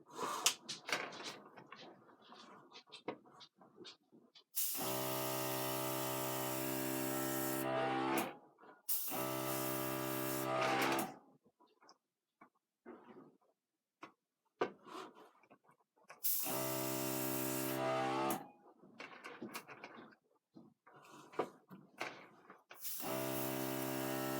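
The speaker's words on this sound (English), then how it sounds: "With the airbrush, I'm able to control where I'm pushing" Several separate bursts of close, loud hissing airbrush spray with alcohol ink, each a few seconds long with a steady mechanical hum, separated by quiet gaps with small clicks.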